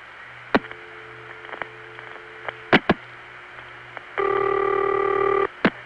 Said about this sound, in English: the sound of a call going through on an NX1 phone line